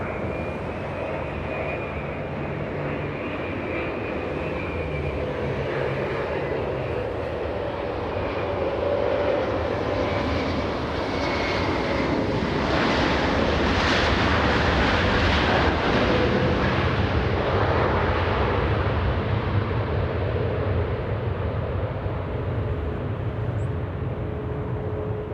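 Delta 8, a heavy airliner in from Haneda, lands on runway 24 right at LAX; a broad jet roar swells to a peak midway, then eases off, loud and continuous throughout.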